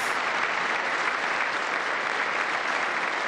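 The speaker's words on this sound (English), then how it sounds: "Oh my God, we're clapping again." Sustained applause from a large audience at a US State of the Union address, a dense and steady roar of clapping that carries on evenly, with no voices above it.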